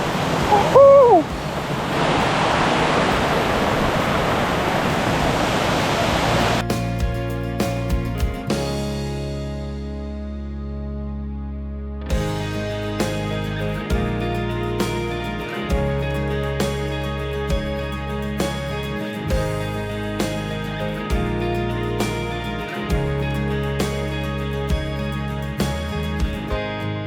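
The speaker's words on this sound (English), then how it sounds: "This is an epic waterfall." Waterfall on the Bluestone River, a scenic whitewater stream: a loud, broad rushing roar fills the first six seconds, then steady music takes over for the rest.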